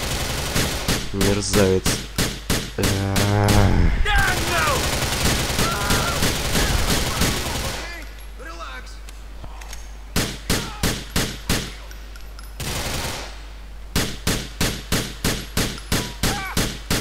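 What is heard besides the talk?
pistol gunfire in the video game Grand Theft Auto IV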